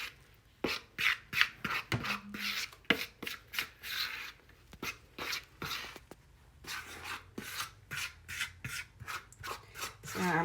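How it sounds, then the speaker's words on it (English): Donut dough being mixed, flour worked into the wet batter by hand: repeated rhythmic scraping and rubbing strokes, close and fairly loud, about two per second, with brief pauses between them. "mix it up really good, and now it's gonna start to turn into a dough"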